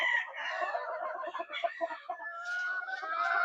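Chickens at a poultry breeding setup with day-old chicks nearby: steady clucking and a rooster's crow, fairly close and continuous, with no voices.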